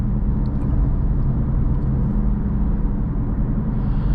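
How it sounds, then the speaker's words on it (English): Steady tire roar and road rumble heard from inside a 2023 Acura Integra A-Spec on the move, a loud, constant low drone with no talking. "The road noise is a little bit loud in here. These tires kind of make a lot of noise."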